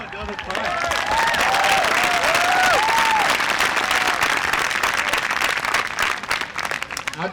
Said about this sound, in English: Come on, another clap.